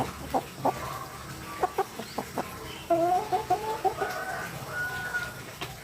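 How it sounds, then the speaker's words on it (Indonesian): A pet chicken clucks in a series of short, close calls that break into longer tonal clucks partway through, with faint background ambience and no talking. "Ini ayam saya malah ngikutin terus ya."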